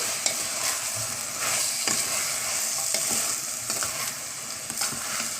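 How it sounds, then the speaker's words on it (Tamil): Peas and chopped vegetables sauté in a pan for bread brinji rice and are stirred steadily, giving a continuous close sizzle with repeated scraping strokes and no voices. "இந்த மாதிரி நல்லா கிளறி விட்டுருங்க"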